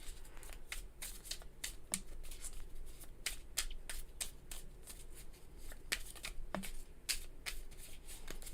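Tarot cards are shuffled by hand in a continuous run of quick, crisp riffling slaps and flicks, close and fairly soft, with no voice.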